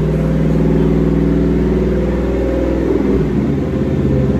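A supercharged Ford Coyote engine running 93 octane at 15 pounds of boost revs on a dyno with a loud, steady mechanical roar and whine that shifts in pitch partway through, close and continuous, with no talking.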